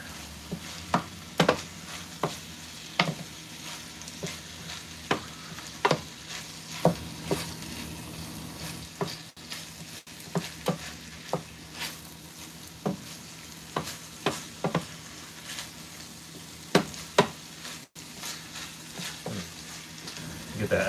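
Filipino spaghetti sauce is stirred in a hot pan, with a continuous sizzle and frying hiss broken by repeated scraping knocks of the spoon against the pan, close and with no talk.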